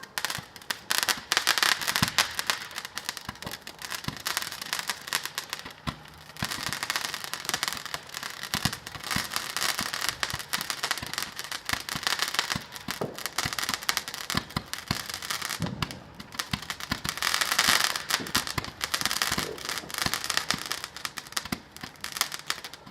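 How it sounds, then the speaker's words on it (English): Bonfire night fireworks go off in a dense, continuous barrage of crackling bursts and sharp pops, loud and sustained with no pause and no voices. "Wow, these are a lot of fireworks."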